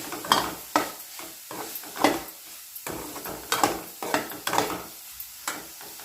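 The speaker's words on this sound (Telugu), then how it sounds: "అల్లం వెల్లుల్లి పేస్ట్ వేసుకొని పచ్చివాసన పోయేంత వరకు కలుపుకోవాలి ఇప్పుడు పసుపు వేసుకొని కలుపుకోవాలి" Ginger-garlic paste and turmeric stirred in a pan for a dry fish and tomato curry, a spoon scraping in repeated strokes over a faint sizzle, close and alone.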